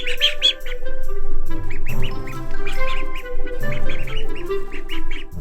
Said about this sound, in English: Duckies!